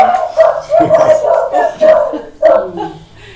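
A dog barks several times in quick bursts during a historic preservation commission meeting, the loud sharp barks close to the microphone, with faint crowd-like noise around them.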